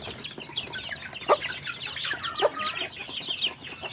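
Free-range village chicks (ayam kampung) peep and cheep in a continuous high chorus, with a couple of louder clucks standing out near the middle, close by and with no talking.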